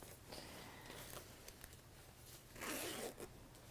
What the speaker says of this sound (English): So open that zip out and then turn it through like so.